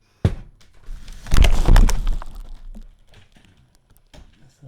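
Typing on a computer keyboard: scattered keystrokes with a few heavier thumps and a louder cluster near the middle, close and fairly loud, with no talking.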